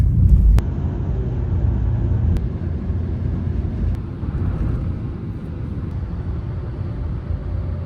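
Car interior on the road from Poland toward Germany after a border check, a steady low engine and road rumble with tyre noise continuing evenly throughout, no voices.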